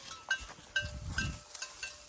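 Goats on a hillside farm bleat in a few short calls, faint and a little distant, with soft rustling and scattered small sounds between them.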